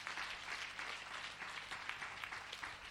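Congregation in a church applauding and cheering together, a steady dense wash of clapping and shouts sustained throughout, fairly loud and close, with no pauses.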